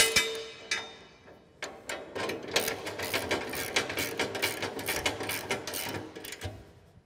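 Nuts being tightened on a Kolpin SwitchBlade UTV snow plow pivot bracket give a rapid run of close, sharp ratcheting clicks, sparse at first and then quick and regular.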